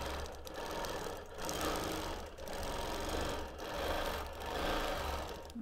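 Sewing machine quilting a memory quilt of mixed fabrics, running in steady continuous stitching bursts with brief slowdowns between them, a close and even mechanical hum without speech.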